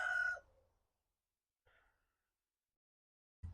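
Backyard chickens making a short loud squawking call, then a fainter cluck a second later and a brief sound at the end, close by with quiet gaps between.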